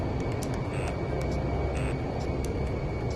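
A fighter jet's engine in the Ace Combat 5 video game gives a constant, dense roar throughout. Brief high electronic blips recur over it, and no one speaks.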